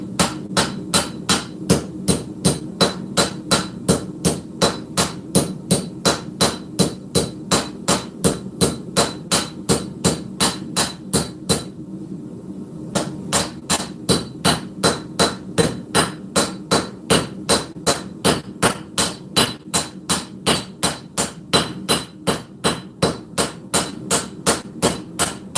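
A hammer strikes steadily on an anvil to forge the heel of an integral knife, loud ringing blows in a fast even rhythm with one brief pause midway.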